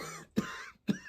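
Two short, abrupt coughs or throat-clearing bursts about half a second apart, close and fairly quiet, with no talking.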